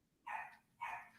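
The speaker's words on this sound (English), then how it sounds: "Why is this puppy barking?" A puppy gives two short, high barks in quick succession, heard faintly as if from another room.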